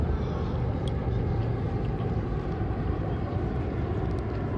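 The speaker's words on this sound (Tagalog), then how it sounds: "that's a private jet. Look, private jet." A private jet passes overhead during an outdoor walk, giving a steady, loud, broad roar and rumble that holds evenly throughout with no voices over it.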